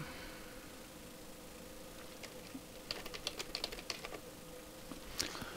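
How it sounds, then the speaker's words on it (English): Keys clack on a computer keyboard while typing into an in-game console box, a short, quiet burst of clicks midway through over a soft steady hiss. "a way we can type in the fucking console box"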